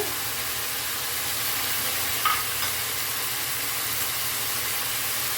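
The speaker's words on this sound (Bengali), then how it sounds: "একটু কষে নেব। কষা হলে ওতে আর একটু মশলা দেবো।" Carrot and cauliflower curry with poppy seed paste and spices sautéing in a kadai: a constant, fairly loud sizzling hiss with a faint scrape of stirring, no speech.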